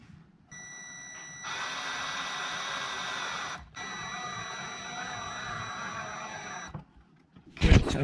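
A power driver screws together wooden pieces of a homemade bike repair stand, with two sustained close whirring runs separated by a brief pause, then a sharp knock at the end.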